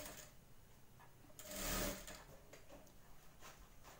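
A sewing machine stitches the edge of a blouse, a quiet close whirring burst that swells for about half a second mid-clip, surrounded by softer ticks and short mechanical clicks.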